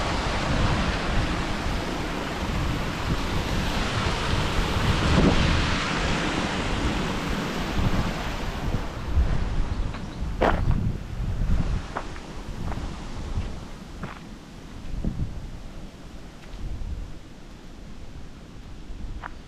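Breezy wind gusting to about 25 miles an hour roars steadily across an open microphone near sheltering trees, surging and easing in broad rushes with a few sharp knocks and buffets.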